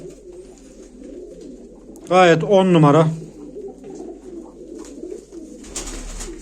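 Pigeons coo in a low, soft, continuous murmur throughout, sold as pigeons at a live auction. Someone talks loudly over them for about a second, and a burst of hiss near the end covers the sound.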